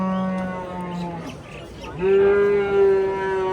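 Cattle lowing at a livestock market selling black cattle in Angren, with long, loud moos that swell in the second half and rise over faint background voices.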